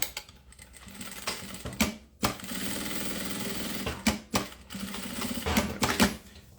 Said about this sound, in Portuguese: Vamos costurar por cima do zíper.